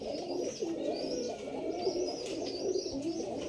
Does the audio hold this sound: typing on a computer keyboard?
no